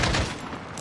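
Automatic gunfire from a weapon in Call of Duty: Modern Warfare, a dense burst of rapid shots opening loud and trailing off over under a second.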